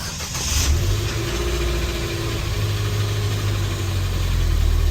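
A Ford EcoSport's engine starts and settles into a steady, close mid-pitched idle with a slight rise in revs near the end, and no voices over it.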